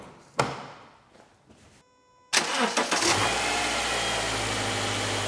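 A car engine cranked by its starter during an alternator and battery test: a quiet click, a short pause, then a loud churning crank that catches and settles into a steady idle hum.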